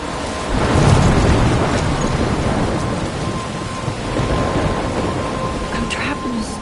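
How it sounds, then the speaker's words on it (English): A heavy thunderstorm from the Life Is Strange video game: loud continuous rain pours down while thunder rolls and rumbles throughout, swelling and fading without a break. "I'm trapped in a storm?"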